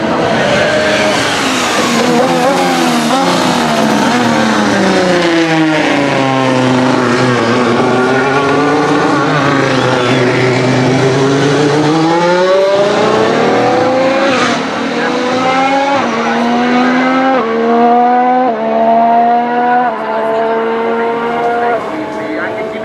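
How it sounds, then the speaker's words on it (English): Honda V6 turbo hybrid Formula 1 engine with an odd-cylinder, rumbly growl at low revs, loud and close as it revs up and down through gear changes, with no talking. "The sound of the engine is different to the rest of the V6s in the lower rev ranges"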